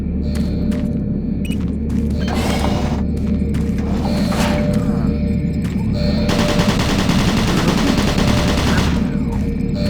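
Automated turret guns in Doom 3 fire long rapid bursts of heavy automatic gunfire over a constant mechanical hum and rumble, loud and close, the longest burst running several seconds near the end.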